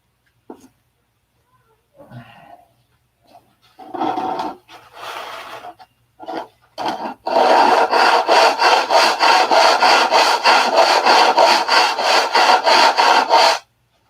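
A piece of wood being cut with a handsaw: a few scattered knocks and scrapes, then a loud, steady run of rhythmic back-and-forth saw strokes lasting about six seconds up close.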